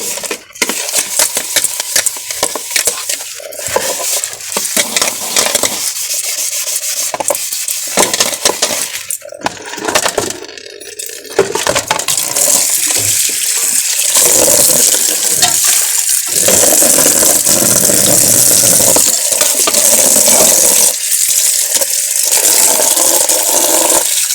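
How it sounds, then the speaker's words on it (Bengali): Dishes washed by hand under a running tap: loud, close water flow splashes continuously while pots, plates and cutlery clink and clatter, the stream growing steadier in the second half. "এবারে চলো তাড়াতাড়ি করে বাসন কটা আমি ধুয়ে ফেলি"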